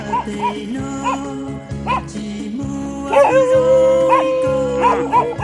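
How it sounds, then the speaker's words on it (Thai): Several sharp dog barks and yips come in bursts over a steady engine hum, some clustered quickly together, close and fairly loud. "เราเจอหมาเห่าด้ว"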